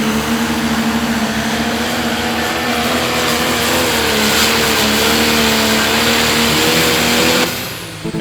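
A Limited Pro Diesel truck pulls a sled at a tractor-pulling event, its engine roaring loud and steady with a rising tone, then dropping off sharply near the end.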